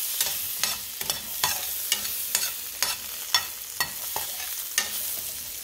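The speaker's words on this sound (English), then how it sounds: "We're going to put garlic first. Wait till it's translucent." Garlic frying in a pan sizzles steadily up close while a utensil scrapes and stirs in a regular rhythm, roughly twice a second; no voices.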